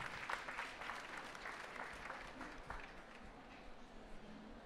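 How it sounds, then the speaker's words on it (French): Conference audience applauding after a talk, a quiet, distant wash of clapping from a seated crowd that tapers slightly toward the end. "On peut les applaudir et vous remercier."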